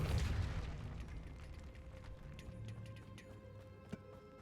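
A bomb explodes inside a tomb in a video game: one heavy boom at the start that rolls into a fading rumble with scattered debris-like clatter and a small pop near the end, with no talking.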